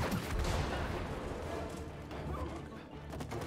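Dense burst of gunfire and crashing impacts from the co-op video game It Takes Two, loud and continuous at first, then tapering into a rumbling wash as the action fades.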